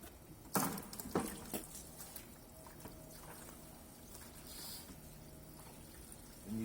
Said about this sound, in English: all you do is go ahead and suck on the hose, get some water going